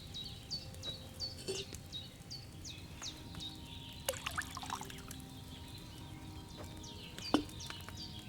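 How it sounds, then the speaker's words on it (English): Wine is poured into an alchemy cauldron in Kingdom Come Deliverance 2, a quiet liquid pour set against repeated chirping birdsong and faint ambient clatter. "So, what did you pour in there? Wine, of course."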